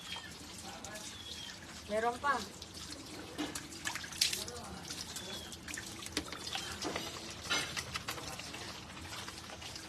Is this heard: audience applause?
no